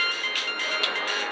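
A burner phone rings with a repeated electronic tone, three short bursts about half a second apart, close and clear over a faint hiss, and no one speaks.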